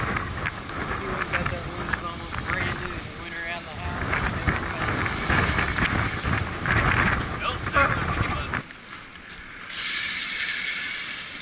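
Syma X4 quadcopter drone flying outdoors in strong wind, its rotors giving a thin buzzing whine under gusty wind noise and a voice, briefly dropping quieter near the end before the wind picks up again.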